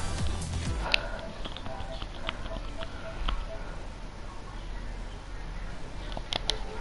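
A computer mouse clicks in sharp, scattered taps while browser history is cleared, close and fairly faint over a noisy background, without speech.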